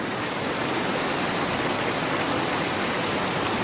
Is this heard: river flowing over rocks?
yes